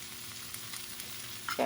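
Sautéed vegetables cooking in a pan give a steady soft sizzle, with a brief louder stir or clatter near the end, no speech.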